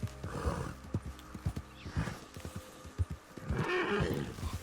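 A horse in the open-world game Red Dead Redemption 2 neighs loudly and insistently, its whinnies rising over a steady clatter of hooves, with a long, strained cry near the end.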